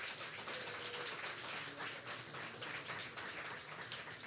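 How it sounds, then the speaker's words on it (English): Steady, dense applause from a song contest audience for the finalists, a continuous wash of many hands clapping at even loudness with no voices. "Please give them a round of applause."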